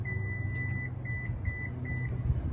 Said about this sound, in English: the door will momentarily open, gives you a little warning beep as well